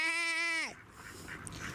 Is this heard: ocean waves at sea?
no